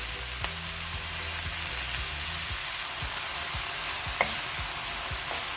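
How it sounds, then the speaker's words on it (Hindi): Vegetables frying over a high flame as pasta sauce is stirred in: a steady, even sizzle with a few faint scraping stir sounds, no talking. "अब इसमें मैं ये पास्ता सॉस डालूंगी"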